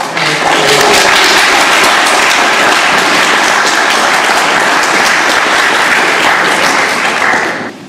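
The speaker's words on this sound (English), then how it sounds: "Thanks for the applause." Loud audience applause for a speaker being introduced at a talk, a dense, steady wash of clapping that holds for about seven seconds before tapering off at the end.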